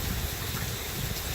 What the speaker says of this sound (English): we've got some rain coming down now